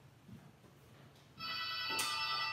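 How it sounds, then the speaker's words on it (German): After a quiet moment with low room noise, a home telephone starts ringing with a steady, bright electronic trill. The ring is fairly loud and near and continues to the end. "jetzt im Moment klingelt es leider"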